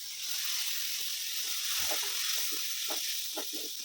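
Ground masala paste for a brinjal kara kuzhambu hits a hot pan, giving a steady, loud hissing sizzle close by, with faint soft bubbling pops beneath it.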